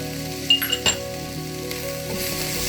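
Crushed green chili and garlic masala sizzling and frying in a hot pan, a steady close crackle with a couple of brief utensil clinks near the start.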